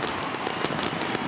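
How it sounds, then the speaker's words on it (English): Fireworks go off at a baseball park after the Pirates' walk-off win, a faint, steady crackle of small pops mixed with a wash of crowd noise. "So we got early fireworks."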